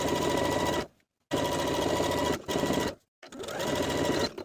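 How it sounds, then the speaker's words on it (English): A sewing machine edge stitches along the pressed inner fold of a summer blouse hem in three loud, steady whirring bursts, separated by brief silent pauses. "I'll edge stitch close to the upper inner fold all the way around."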